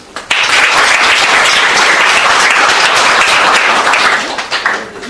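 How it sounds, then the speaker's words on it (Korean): Audience applause at a youth discussion event, a sudden loud, dense burst of clapping that holds steady for several seconds and then fades. "동의하시는 분만 박수 치세요."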